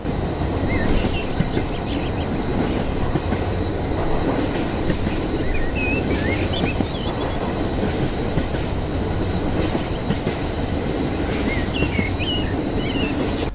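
A train rumbles steadily along the rails throughout, a dense, continuous roll with faint rhythmic clatter, while birds chirp and whistle intermittently above it.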